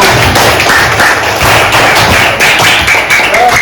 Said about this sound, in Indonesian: Beri tepuk tangan dulu untuk kelompoknya